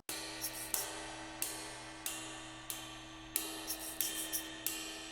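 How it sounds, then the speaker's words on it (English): A ride cymbal struck at a steady, spaced pulse, each hit ringing out bright and shimmering, with a soft shaker egg texture filling between strokes. "I have this ride cymbal recording that I actually played on the ride cymbal right here behind me."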